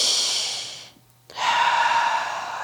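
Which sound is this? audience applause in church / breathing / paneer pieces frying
breathing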